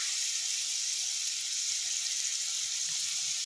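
Sliced chillies for veg fried rice frying in a pan, a steady close hiss of sizzling oil running evenly throughout without pause.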